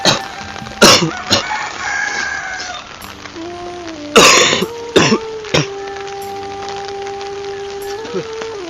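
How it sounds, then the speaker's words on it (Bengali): A man coughs and clears his throat several times in loud, close bursts. A rooster crows in the background of a rainy garden. "ভাই কাশতে কাশতে জীবনটা শেষ।"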